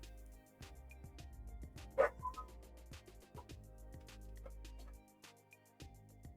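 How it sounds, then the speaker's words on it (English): Several dogs bark outdoors at a distance, faint intermittent yips and barks scattered across a breezy, low-level background with wind rumble. "it's recognized the dogs barking, so dog sounds"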